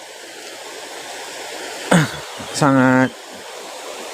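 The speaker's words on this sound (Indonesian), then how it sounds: "sungai di bawah ini" A river flows steadily below, its broadband rush of water running through the whole stretch at an even level, with a voice speaking briefly over it partway through.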